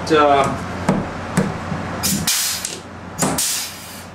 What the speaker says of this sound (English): So now we have a nice riveter.